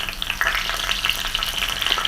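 Hot oil with cumin crackles and sizzles steadily as curry leaves are added, with sharp popping spatters throughout, close and loud.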